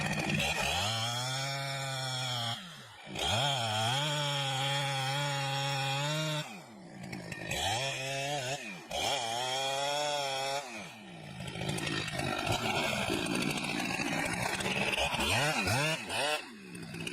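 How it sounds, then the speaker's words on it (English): A chainsaw felling a large tree, its engine revving loud and close in long sustained bursts with brief drops between cuts, the pitch rising and falling as the bar bites into the wood. "cutting down large trees with a chainsaw is a serious task"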